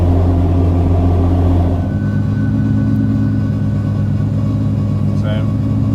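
A Nissan 350Z engine hums with a steady, loud low drone from inside the car while cruising, and the tone shifts slightly partway through as the load changes.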